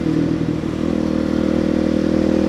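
A supermoto motorcycle engine held at a steady, loud drone during a wheelie, with a rough clattering edge and a slight dip before it holds constant.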